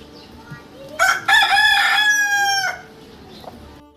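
A rooster crows once in a village, loud and close, a long rising then falling call lasting under two seconds, with quiet surroundings before and after.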